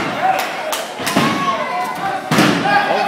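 A wrestler's leg drop lands on the ring canvas during an elimination tag match, giving several heavy thuds and slams beneath continuous, excited commentary.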